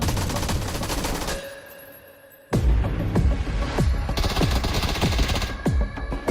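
Bursts of automatic gunfire in PUBG, loud rapid volleys with a brief quieter lull before dense repeated shots resume, sharp cracks ringing out over a busy background.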